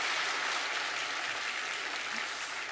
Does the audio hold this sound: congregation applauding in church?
yes